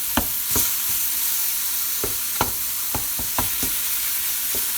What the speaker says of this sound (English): we're going to cook this up with our sauteed vegetables